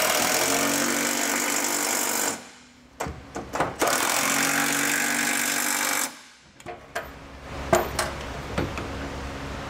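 A power tool with a 19 mm socket runs down the bolts on an etrailer hitch receiver on a 2020 Ford Explorer: two sustained loud whirring bursts, each followed by short clicks and clanks of hardware.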